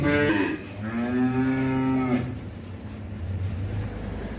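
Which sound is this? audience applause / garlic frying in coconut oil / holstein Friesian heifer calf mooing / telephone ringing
holstein Friesian heifer calf mooing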